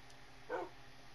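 A small dog in the Minecraft video game gives a single short bark, faint and brief against a quiet background.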